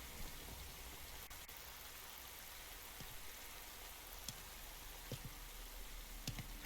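Steady, even rain falls in the Metal Gear Solid 3 Delta video game, a dense continuous hiss with a few sharper drops and patters, moderately quiet and heard alone without voices.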